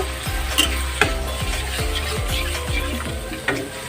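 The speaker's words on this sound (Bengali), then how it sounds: "এখন দিয়ে দিব এখানে পরিমাণ মতন জল মশলাটা কষানোর জন্য" Spices frying and sizzling in a pan for a Bengali vegetarian doi potol curry, with steady hiss, clinks of a spoon against the pan and rhythmic stirring scrapes, close and without talk.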